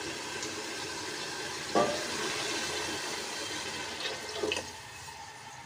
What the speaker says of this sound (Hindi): तो इसमें आप पानी डालते हैं।